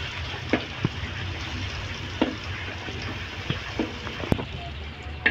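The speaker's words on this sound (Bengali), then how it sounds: "এরকম লাল লাল করে ভেজে নিব" Shrimp and taro pieces frying in oil in a pan for a Bengali dish, a steady sizzling hiss with occasional sharp pops and utensil taps, close and constant.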